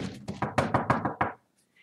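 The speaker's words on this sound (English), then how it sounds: "Professor McGonagall rapped on the door." A door rapped with quick knuckle knocks in an audiobook sound effect, about six sharp hollow knocks in a brisk run, close and clear, then silence.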